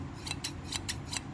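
Light-duty, sharp American-made shears snip five times in a quick, even rhythm, crisp close metallic cuts alone over a quiet background.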